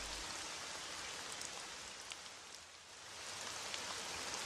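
Steady cartoon rain sound effect, a continuous dense patter of drops falling without pause, fairly loud and filling the scene with no voices over it.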